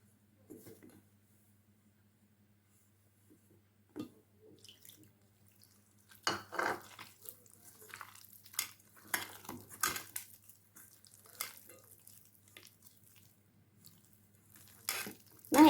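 Water being worked into maida flour for coconut poli dough, heard as close, intermittent wet squelching, mixing and clinking from the bowl, with quiet gaps between the bursts.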